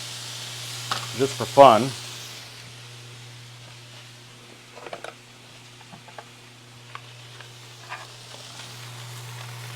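Wagyu steak laid onto a hot grill, a steady soft sizzle with faint ticks and crackles running throughout, while a person speaks briefly near the start.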